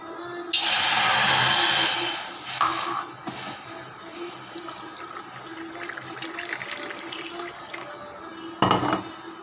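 Water pours steadily from a tap into small glasses for about two seconds, followed by small clinks and dripping, then a second short splash of water near the end.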